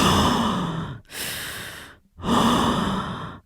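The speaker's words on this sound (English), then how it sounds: "What's up with the heavy breathing at the end?" Heavy breathing, three long loud breaths in a row, each rough and airy like a deep sigh, close to the microphone with short silent gaps between.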